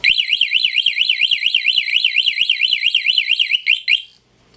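A car and motorcycle remote alarm system siren warbles loudly and rapidly up and down in a steady repeating cycle for about four seconds, then cuts off abruptly.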